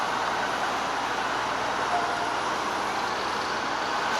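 Subway train at the Queens Blvd station in Forest Hills, New York, where the line ends: a steady, loud, broadband rumble and hiss of the train running through the station, continuous with no talk.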